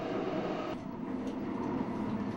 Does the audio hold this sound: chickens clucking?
no